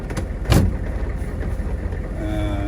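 A 1998 AM General Hummer H1 idles steadily as it is shifted into low range, with one loud clunk near the start and a thin whine appearing toward the end.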